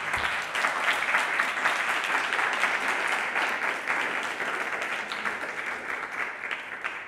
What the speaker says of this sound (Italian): congratulazioni a Grazie. Giuseppe e un applauso.